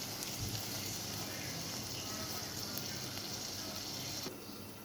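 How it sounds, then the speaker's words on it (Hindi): Onions and tomato cubes fry in a pan with a soft, steady sizzle and faint hiss that runs unbroken before quieting near the end. "आप प्याज को थोड़े से लाल करें, उसमें टमाटर क्यूब डालें और उनको गला लें"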